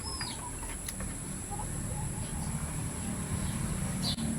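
A few faint, high chick peeps come through at the start and end over a steady background hum and rustle.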